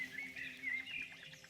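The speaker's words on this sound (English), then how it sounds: "That is a very loud bird." A loud bird in the video game The Sexy Brutale chirps in quick, bright, repeated tweets, close and prominent over a quiet, faint background.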